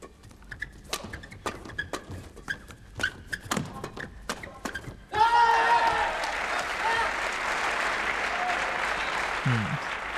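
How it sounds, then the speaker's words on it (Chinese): Spectators at the final of a badminton men's doubles match in the 2003 Danish Open break into sustained, loud applause that fills the hall, after a stretch of scattered claps and thuds. "现场的观众也是很有节奏的，在为双方球员加油鼓掌"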